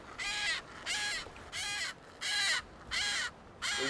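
Striated caracara chicks call on a beach in the Falkland Islands with six evenly spaced harsh, crow-like caws, loud and close, with no other sounds in between.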